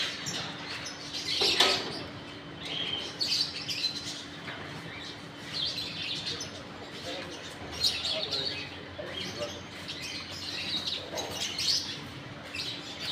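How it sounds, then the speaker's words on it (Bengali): Birds calling from green trees in the morning, bright scattered chirps and short tweets popping up repeatedly over a soft, constant outdoor background, with no voices. "পাখির ডাকগুলো খুব সুন্দর লাগতেছে"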